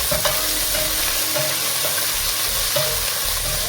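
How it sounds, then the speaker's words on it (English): Ginger, garlic and onions fry in a pot with a loud, continuous sizzle, broken by a few light stirring scrapes, and no one speaking. "I'll just leave it for a minute for the ginger and garlic to cook."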